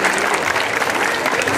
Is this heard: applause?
yes